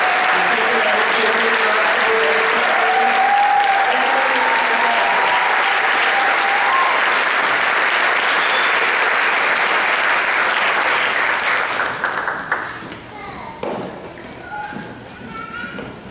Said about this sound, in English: Let's give a warm, loud applause